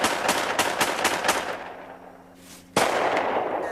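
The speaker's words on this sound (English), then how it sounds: "Dylan Klebold and Eric Harris go to the forest with friends for firing practice." Gunfire from a homemade shotgun shooting slugs at forest firing practice: a rapid run of sharp loud reports, a brief lull, then one more heavy close blast, with no talk over it.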